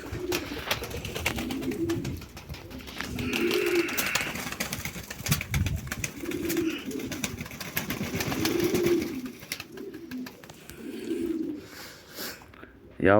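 Pigeons coo in a chicken coop during cleaning, with repeated soft throaty calls arriving in regular bursts close by, while faint scraping and a low hum sit in the background.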